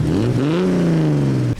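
Carbureted Datsun engine revving up loudly and close by, a strong rising growl that holds at a steady high pitch and then cuts off abruptly.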